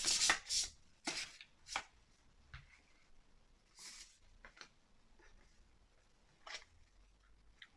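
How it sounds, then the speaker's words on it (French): Oracle cards being laid out one after another on a table, a series of soft close slaps and slides with quiet rustling between them. "on me demande de mettre 4 cartes"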